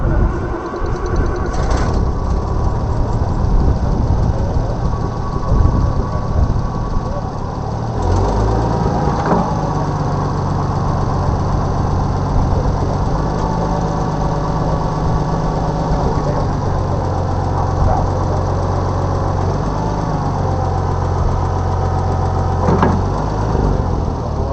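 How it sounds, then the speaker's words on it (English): Small Minneapolis Moline G550 gas tractor engine running steadily and fairly loud throughout, a continuous idling drone with occasional knocks and shifts in tone. "On this little Minneapolis Moline tractor, of course,"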